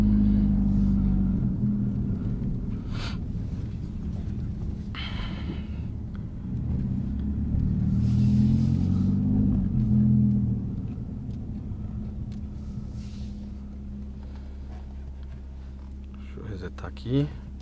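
A Renault Sandero RS with 150 hp is driven flat out in a 0-100 acceleration run, its engine a low, droning rumble that swells and climbs in pitch while voices talk over it.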